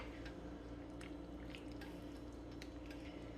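Thickening homemade gravy of a beef stew in a slow cooker on low gives soft, wet squishes and faint drips as a spoon stirs through it, quiet and close, with no voices.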